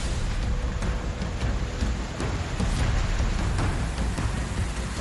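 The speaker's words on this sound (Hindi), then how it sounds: "रुद्रप्रयाग में गुरुवार को लगातार हो रही बारिश" Steady heavy rain pours in hilly Rudraprayag, a dense continuous hiss with occasional low rumbles, loud and close with no voices.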